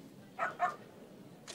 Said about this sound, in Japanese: なんだこの犬は、すごい勢いで吠えられているな。